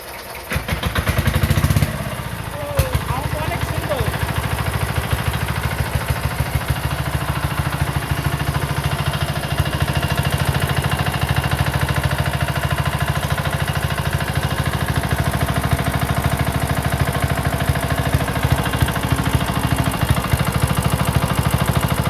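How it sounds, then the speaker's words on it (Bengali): Old power tiller engine with a pump being started in Bangladesh: a brief cranking effort, then the engine catches and settles into a loud, steady, rapid chugging idle that runs on for a long stretch. "স্টার্ট দেন তো স্টার্ট দেন দেখি মেশিন"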